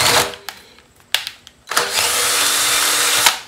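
Short bursts of a power drill start and stop, then a longer sustained grinding whine as the bit cuts through a grade 5 steel nut, ending with a sharp knock.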